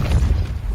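A Depulso force spell in Hogwarts Legacy lands as a brief, heavy thud with a deep, booming low end and a short rumbling tail.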